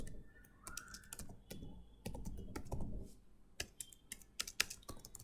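Keys clatter on a computer keyboard as someone types out an email, with quick irregular bursts of crisp close clicks separated by short pauses.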